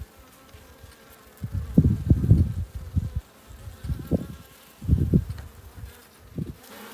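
Honey bees buzz in uneven swells close by at a hive, rising and fading in several bursts over a low background hum.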